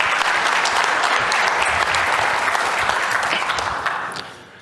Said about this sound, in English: Big round of applause for Moss.